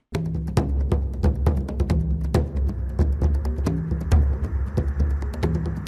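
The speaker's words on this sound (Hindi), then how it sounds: "ये तो नगाड़े की आवाज है, ठीक वैसी ही जैसे आदिवासी कबीले वाले किसी खुशी के मौके पर बजाया करते हैं" Large nagara kettle drums pound in a steady, busy rhythm, many overlapping strikes over a low rumbling resonance, continuous and fairly loud.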